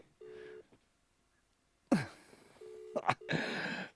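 Phone ringback tone while a call waits to be answered, two steady tone bursts separated by pauses, with loud voices and noise breaking in between.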